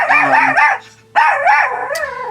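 A dog barks and howls loudly close by in two wavering bursts separated by a brief pause.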